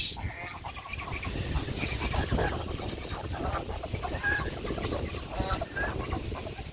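Domestic geese honk and cackle at a fish farm enclosure, a busy overlapping stretch of calls from several birds at moderate distance over outdoor background noise.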